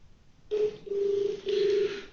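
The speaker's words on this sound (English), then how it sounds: "even before the second phone started ringing, you can see that we have already detected the call" Telephone handset in a call-chain demonstration: three tone pulses come one after another, each holding steady for about half a second with brief gaps between, clear and close in a quiet room.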